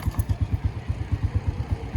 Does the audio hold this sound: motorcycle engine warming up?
yes